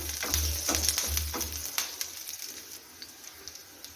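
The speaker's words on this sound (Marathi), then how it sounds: "बारीक केलेले तुकडे त्याचसोबत टाकून घेऊया थोडासा कढीपत्ता हलकस फिरवून घेऊया" Finely chopped ginger-garlic pieces and curry leaves fry in hot oil for chicken 65, a close, continuous crackling sizzle with light stirring scrapes and a low hum fading out early.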